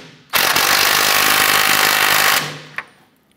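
A power tool drives down a control arm mounting bracket bolt on a 1994-2004 Chevrolet S10 in one loud, continuous two-second burst, then stops, leaving a single small knock.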